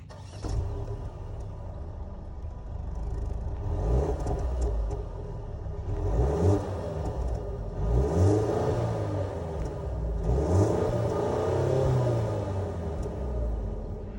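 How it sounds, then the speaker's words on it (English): 2021 Mercedes-Benz GLC 300 with a 2-liter turbocharged four-cylinder, starting and then revving, several rising and falling rev swells over a low idling rumble, fairly close and moderate in level, no talking. "that was of course the sound of the 2-liter turbocharged 4-cylinder engine sold by Mercedes for this GLC 300"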